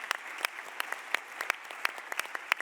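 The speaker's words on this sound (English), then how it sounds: "please, everyone, give yourselves and everyone a round of applause" Applause from an audience at an impact entrepreneurship competition event, sparse and fairly quiet with distinct individual claps scattered across the room rather than a dense roar.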